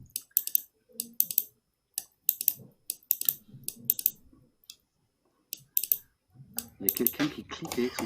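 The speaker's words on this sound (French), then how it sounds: "Il y a quelqu'un qui clique avec son stylo." A pen clicked repeatedly in short, sharp clusters picked up on an open conference call line, with irregular pauses between bursts and a voice talking faintly underneath toward the end.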